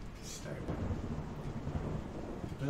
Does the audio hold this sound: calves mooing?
no